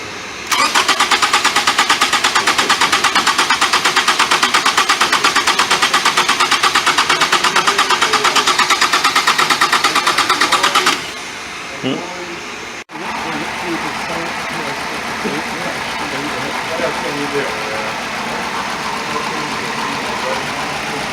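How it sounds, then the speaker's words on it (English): A fuel-injected engine runs loudly and steadily during a ground check on its injectors, with a dense buzzing drone that drops abruptly to a quieter, steady running level about halfway through. "Listen to the injectors,"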